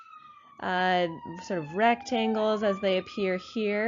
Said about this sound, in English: sorry about the passing siren